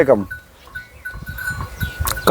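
Goats on a goat farm let out loud, close bleats at the start and again at the end, with quieter livestock shuffling and people talking in between.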